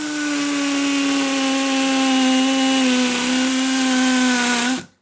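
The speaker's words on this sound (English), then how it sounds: "So all I'm going to do, I'm going to drill in at a slight angle." A power drill bores at an angle into a concrete wall with a loud, steady, close motor whine and grinding that holds for about five seconds before cutting off abruptly.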